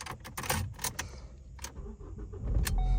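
A 2014 Ford Focus is started with a key: a few light key jingles and clicks, then the engine cranks and catches in a low rumble at the end, recorded close and fairly quiet.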